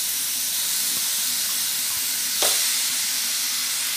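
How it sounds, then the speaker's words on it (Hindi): Grated beetroot frying in ghee in a pan, a constant broad hissing sizzle with a brief louder burst about halfway through; no speech. "और घी डालने के बाद इसमें हम ये घिसा हुआ चुकंदर बीटरूट डाल देंगे"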